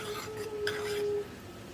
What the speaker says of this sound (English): So I'm just going to be adding some evap milk. I'm just going to stir that in.